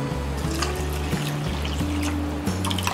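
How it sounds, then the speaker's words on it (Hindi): Water from a copper vessel being poured over one cup of millet in a bowl to soak, a steady trickling pour that continues throughout the clip, close and fairly loud. "हम 8 से 10 ग्लास पानी डालेंगे और इसे सोक करने रख देंगे।"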